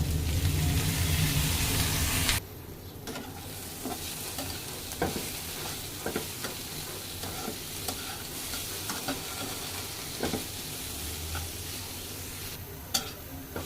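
Bitter gourd frying in a pan with onions and green chillies, giving a continuous close sizzle with repeated scraping stirs, loud at first and then settling into a steadier hiss.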